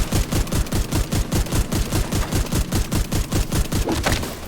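Rapid automatic gunfire from players shooting in The Division 2, a steady stream of loud, closely spaced shots running continuously without pause.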